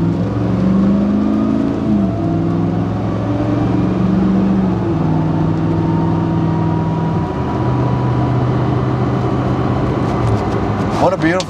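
A 1994 Land Rover 110 Defender engine drones and climbs in pitch as it accelerates, loud and continuous from inside the cabin, with stepped gear changes and a brief rattle near the end.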